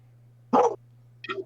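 A dog gives two short barks, a sharp loud one followed a moment later by a softer, higher yip, close by over a low steady hum.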